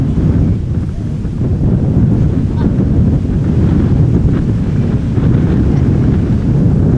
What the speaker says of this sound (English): the wind has definitely not slowed down. It looks like it is picking up, rather